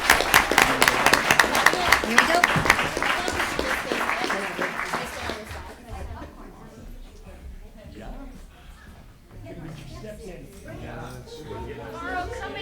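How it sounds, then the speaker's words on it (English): Audience applause at a school board meeting, a dense burst of clapping for the first six seconds that then fades into murmuring chatter and people talking nearby. "Let's give them a round of applause."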